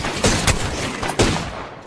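Gunfire in Apex Legends: several heavy, closely spaced shots crack out loud and near, each with a booming tail over a dense layer of game noise.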